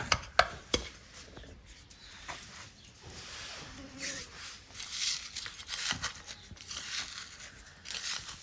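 A knife chops drained coconut flesh finely: a few sharp, close strikes come first, followed by quieter, irregular cutting and scraping sounds.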